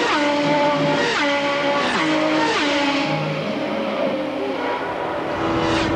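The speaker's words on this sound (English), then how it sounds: "Ari Leyendijk is just ahead of Nigel Mansell as you ride with Nigel" A 1993 IndyCar screams at speed around the Indianapolis 500 oval, heard from the cockpit: a loud, sustained engine wail with repeated downshifting pitch sweeps as it laps, no voices.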